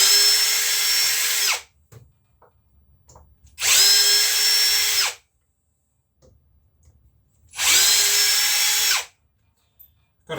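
A power drill, likely driving screws into soft IKEA-type wood, whirs loudly in three steady bursts of about a second and a half each, separated by silent gaps.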